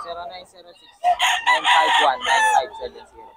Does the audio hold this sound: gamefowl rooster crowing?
yes